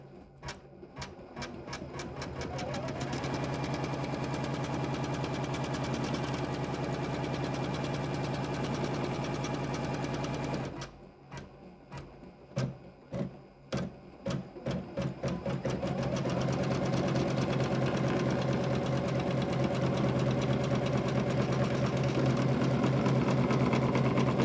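An embroidery machine runs a straight stitch along the raw edge of a zipper on an in-the-hoop pencil case, a steady fast needle clatter that pauses midway with a few uneven starts before resuming its even hum.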